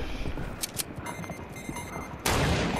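Fortnite sniper rifle fire: a few sharp cracks early, then a loud sudden burst near the end, amid busy game noise with no one talking.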